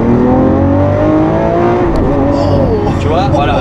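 A Lamborghini Aventador Ultimae LP780-4 V12 in Corsa mode revs hard and loud from up close, its rising engine pitch broken by quick gear shifts, with someone talking over the roar.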